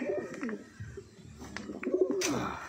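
Pigeons or doves kept as pet birds coo repeatedly at close range, soft rounded calls rising and falling over a steady background with occasional light chirps.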